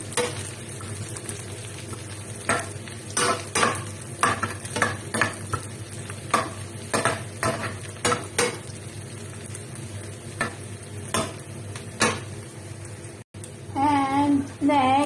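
Onion and garlic fry in a pan over a steady low sizzle, punctuated by a regular series of sharp scraping strokes as a utensil stirs them, with a brief voice near the end.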